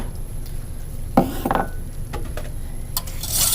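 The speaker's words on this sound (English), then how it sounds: "going to dump in my 2 cups of milk, pan still cold" A whisk clinks and scrapes against a cold pan as two cups of milk are stirred, with a few sharp metallic taps and swishes over a quiet background hiss, close by and with no talking.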